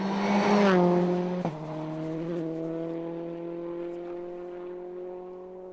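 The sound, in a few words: rally car driving with understeer, tyres squealing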